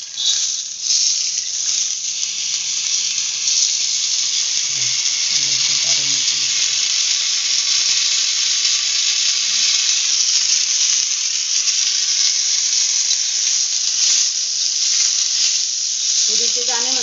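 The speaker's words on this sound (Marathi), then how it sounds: "दाणे भुजून घ्यायचे." Fresh green pigeon pea grains roast in a pan with a steady, loud sizzle that runs unbroken throughout, with faint clinks and a brief stir near the end.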